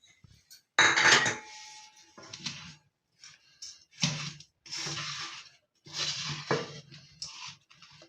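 A spoon clanks and scrapes in a metal vessel as 200 grams of country sugar is stirred into samba wheat rava puttu with coconut, in loud, irregular bursts of clatter separated by brief pauses.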